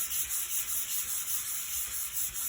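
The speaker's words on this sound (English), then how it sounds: "and I'm just sanding it." A linocut plate rubbed with 800 grit sandpaper: soft, close, rhythmic back-and-forth scratching strokes, steady and even with no speech.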